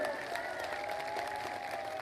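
Steady applause from an audience, dense clapping sustained throughout with a faint crowd murmur underneath.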